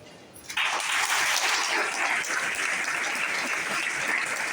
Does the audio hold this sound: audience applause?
yes